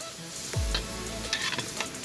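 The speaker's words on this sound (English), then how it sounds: "Let the onion sweat for 5 minutes." Onions sizzling in a pot as the base for jambalaya, a brief bright frying hiss with a few scraping, stirring clatters, close and alone.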